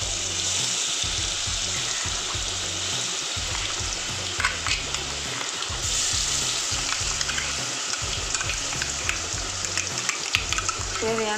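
A ground paste of ginger, garlic and shallots fries in oil for a sardine curry, sending up a dense, loud, continuous sizzle and bubbling with occasional stirring scrapes. There is no talk.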